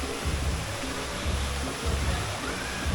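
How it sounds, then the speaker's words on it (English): A large waterfall on Biliran Island roars as a steady, dense rush of falling water, loud and close, with no talk over it. "We hung out by the major waterfall."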